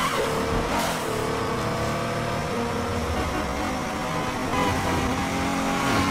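A Lotus Elise engine roars steadily in the Midnight Club 3 racing video game, loud and continuous for several seconds as the car drives and revs, with no voices.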